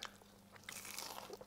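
Fried food, Indonesian gorengan served with nasi pecel, gets bitten and chewed up close, with a few quiet, crisp crunches and crackles in quick succession.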